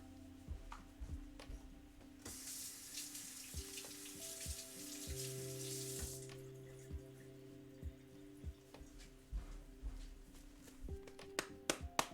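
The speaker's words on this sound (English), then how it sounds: "I don't normally wash my onions ever, but there's like still dirt inside" Onions rinsed under a running kitchen tap to wash out dirt: a few seconds of steady splashing water, then quieter clinks and handling noises, with no talking.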